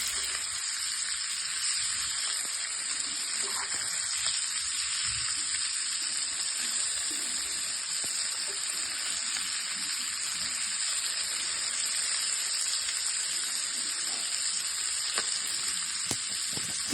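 Sardines sizzle steadily in a hot pan, a continuous bright hiss of frying oil with small crackles and pops, close and even throughout with no talking.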